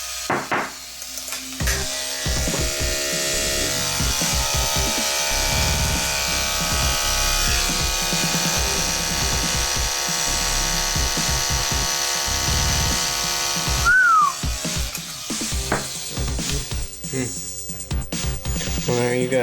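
Professional electric hair clippers with a sharpened diamond blade run with a steady buzzing whine while cutting wet string, broken by irregular snipping and handling noises and a brief squeak partway through.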